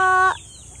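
A single close cluck from a native chicken being fed, short and tonal, breaking off abruptly into quiet.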